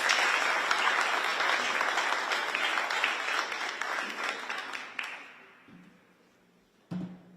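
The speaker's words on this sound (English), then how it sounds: "give a huge shout out and round of applause to the administration" A crowd gives a round of applause at a live Afram fest announcement, with dense, loud clapping for about five seconds before it thins out and fades, followed by a brief thump.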